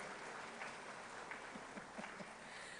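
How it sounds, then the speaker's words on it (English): Audience at a professorial inaugural lecture applauding, a fairly quiet, steady patter of clapping with a few sharper claps standing out, no talk on top. "the lady also deserves some round of applause"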